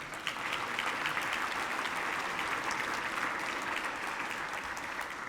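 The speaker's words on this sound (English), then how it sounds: "Give yourselves a round of applause." A room of teachers and guests at an education awards celebration applauds, a steady, even wash of clapping that fills several seconds at moderate volume with no talk.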